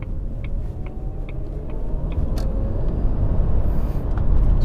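A Jaguar XJR X308 drives along with a steady low engine rumble and road noise that swells slightly toward the end, heard from inside or close by, with faint clicks over it and no talk.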